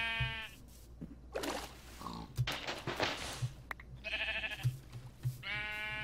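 Sheep bleating in Minecraft (Tekkit modpack), several short nasal bleats close by, spaced out with brief game noises between them.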